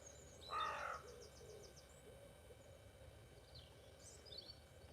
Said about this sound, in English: You can literally, all you can hear is the birds.